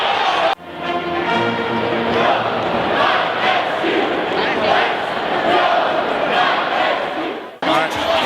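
Loud, dense crowd cheering and shouting at an Illinois State Redbirds basketball rivalry game against Bradley, a sustained roar from a packed arena that holds steady for several seconds before cutting off.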